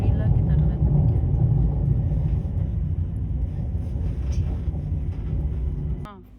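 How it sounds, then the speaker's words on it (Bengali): A train pulling into Dinant, Belgium rumbles steadily from on board as it gradually slows, the heavy low drone easing and fading away as it comes to a stop. "এখন এই যে আস্তে আস্তে ট্রেনটা স্টপ হয়ে যাবে।"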